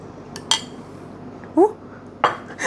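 A spoon clinking against a bowl while eating rice mixed with chili paste and fresh vegetables: three short, bright metallic taps spaced apart over a quiet room background.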